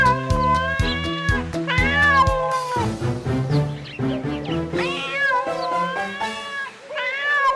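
A cat meows again and again in drawn-out, wavering cries that rise into caterwauling, loud and close, with short pauses between calls.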